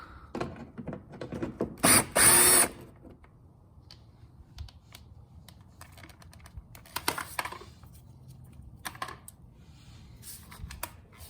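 A 10mm bolt on a Lexus GX470 bumper is loosened with a power tool: a loud, short buzzing burst near the start, then scattered clicks and ratcheting taps against quiet background.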